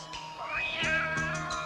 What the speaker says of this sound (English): Oh, that's our cat.